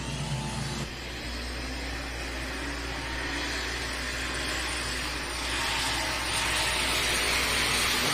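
A Super Stock Open pulling tractor with up to four turbochargers and about 5,000 horsepower roars under load, a loud sustained drone with a turbo whine that builds toward the end.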